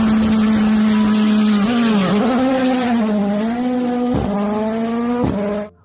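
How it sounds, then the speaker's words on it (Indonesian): A toy or model race car with a steady, high, buzzing whine that wavers in pitch, briefly dips a couple of times and then cuts off abruptly at the end, loud and close with no talk. "lihat teman, di sini ada mobil balap"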